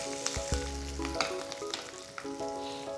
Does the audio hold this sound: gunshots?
no